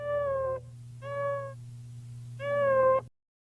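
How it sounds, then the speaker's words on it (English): Three clear, drawn-out meows from a tabby cat, evenly spaced over a low steady hum, each close and moderately loud, then silence. "Make it sound like my old lady's cat"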